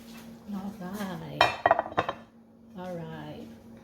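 A mixing bowl is clunked and clinked on a kitchen counter as shortbread prep begins, a few sharp knocks and rattles between stretches of nearby talk.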